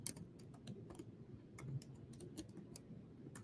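A store name is typed on a computer keyboard: a quiet, close run of uneven key clicks and taps in an irregular rhythm, with no talk over it.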